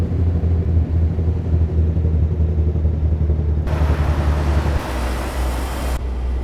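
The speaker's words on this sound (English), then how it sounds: "The Jake sounds are not too bad." Peterbilt 389 truck Jake brake in American Truck Simulator, a loud, steady low engine rumble and throaty roar that holds throughout, shifting tone abruptly twice as the braking changes.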